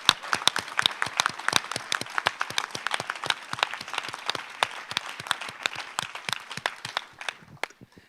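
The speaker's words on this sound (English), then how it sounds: "So I want us to give a round of applause for all of you guys." Applause from a conference audience at a co-creation event, dense overlapping claps sustained and fairly close for about seven seconds before thinning out at the end.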